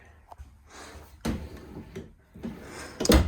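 A drawer slides open and bumps in the bathroom of a 2024 Jayco Eagle 370FBTS fifth-wheel RV, giving a couple of close wooden knocks and sliding thuds in a quiet room.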